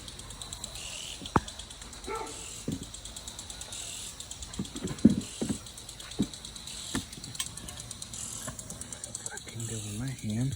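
Wrench work on a 2000 VW 2.0 secondary air system part, loosening bolts: close ratcheting clicks and sharp metallic taps arrive in irregular bursts, with faint background hum and a little talk.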